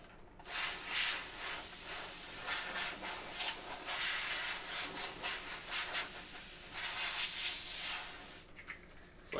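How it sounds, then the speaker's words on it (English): Compressed air hisses in repeated bursts while blowing dirt out of a grimy Silicon Graphics keyboard, loud and close with short pauses between sprays, no talking. "I'm going to take some compressed air,"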